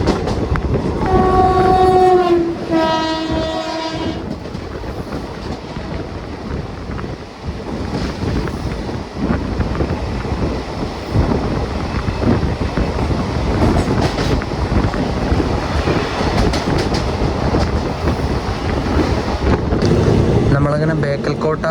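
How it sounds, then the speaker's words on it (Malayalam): A KSR Bengaluru–Kannur Express train passes near Bekal Fort station by the sea, a few horn blasts early on giving way to a loud, sustained rumble and clatter of wagons with wind buffeting throughout. "KSR ബംഗളൂരു കണ്ണൂർ എക്സ്പ്രസ് വരുന്നുണ്ട്."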